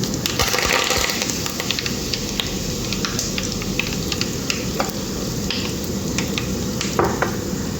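Cumin seeds and curry leaves sizzle steadily in a hot pan while cooking a bitter gourd and radish stir-fry, a dense continuous crackle with occasional light clinks of a spoon against the pan.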